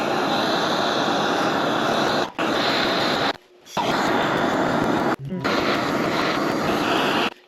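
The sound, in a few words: propane torch heating a Jeep harmonic balancer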